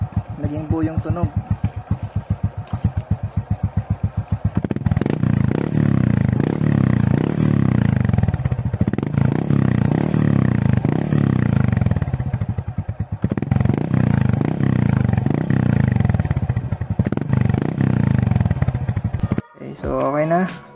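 A motorcycle with a newly installed exhaust revs loudly and close by in repeated surges. The deep, rumbling exhaust note rises and falls, and someone talks over the engine.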